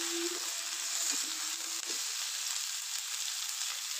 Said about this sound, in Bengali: আমি সবজিগুলো ভেজে নিব।